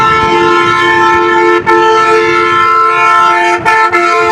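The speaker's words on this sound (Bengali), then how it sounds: "পিছনে আরেকটা বাস হর্ন মারতে মারতে আসতেছে।" A bus blasts its horn in a long, steady, loud drone from behind on the Dhaka–Mawa expressway toward the Padma Bridge, sounding nearly continuously with two brief breaks near the end.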